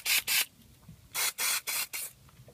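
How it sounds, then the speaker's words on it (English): Short hissing bursts of WD-40 lubricant sprayed from a can onto a thread tap for a Helicoil thread repair: two quick spurts, a pause, then four more close, crisp sprays. "lube up the tap just a little bit with some WD-40 and lube up the hole"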